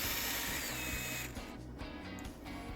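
Small two-stroke engine of a vintage 1990s Weed Eater GHT-22 hedge trimmer running steadily with its cutter blade in motion, a loud continuous buzz that stays close and constant, easing off slightly partway through.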